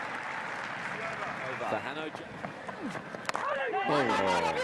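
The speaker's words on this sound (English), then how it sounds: "The applause of the local crowd." Spectators at a Prime Minister's XI v India cricket tour match applaud steadily in the background while a commentator talks over them.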